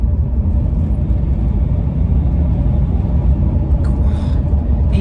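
A Bentley Turbo R with a 6.75-litre turbocharged V8 accelerates, giving a steady, loud low rumble heard from inside the car, continuous throughout with no voices.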